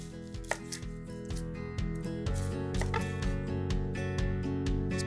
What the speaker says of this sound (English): We'll start by thinly slicing one shallot.